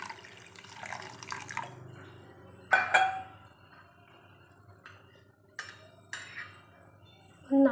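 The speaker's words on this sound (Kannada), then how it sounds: "ಇದನ್ನು ಮುಳುಗೋ ರೀತಿ ನೀರು ಹಾಕ್ಕೋಬೇಕು." Water poured into a pot holding tomato, cumin and turmeric for sambar, heard as scattered splashes and drips between quiet gaps, with a clink of the pot near the end.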